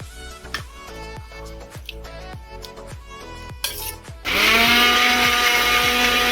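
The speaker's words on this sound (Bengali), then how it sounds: "মিক্সিং বোল নিয়ে নিয়েছি আমি, এতে আমের পিসগুলো দিয়ে পেস্ট করে নেব" An electric mixer grinder whirs mango pieces into paste in a mixing bowl, kicking in loudly after a few seconds of quieter plucked tones and then holding a dense, steady roar.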